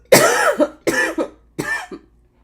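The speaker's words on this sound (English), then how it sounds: "Excuse me for coughing in your ear." Three close coughs in a row, each a harsh burst with a short rough tail, fairly near and clear with nothing else over them.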